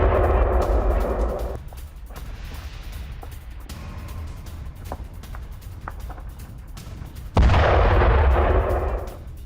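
Explosions and gunfire during a Ukrainian drone and missile attack on Bryansk, Russia: loud heavy blasts with rumbling roar, a quieter stretch of scattered bangs, then another powerful burst.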